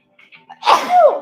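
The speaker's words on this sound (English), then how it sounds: "Speaking of explosions and explosive galaxies, I'm an explosive sneezer. Very loud." A single loud, explosive human sneeze, with a couple of quick indrawn breaths leading into one sharp, close burst.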